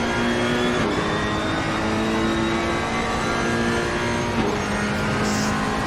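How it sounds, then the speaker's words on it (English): A Ferrari race car screams at high revs in a racing video game at Zandvoort, its engine note holding steady and loud with brief dips at gear changes, continuous and close throughout. "Ferrari engine screaming, trying to catch the big Bentley."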